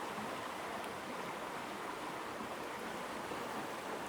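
A clean outdoor stream flowing steadily at a camping spot, a soft continuous watery hiss with no breaks and no voices.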